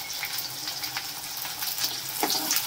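Chopped onions hit hot oil in a pan for shahi matar paneer, giving a steady, close sizzle and crackle that rises slightly near the end, with no talking.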